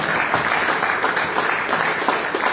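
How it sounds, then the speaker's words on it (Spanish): An audience at a book presentation on a new constitution claps for a speaker, giving steady, full applause that fills the room throughout, with no voices over it. "Aplausos para ella."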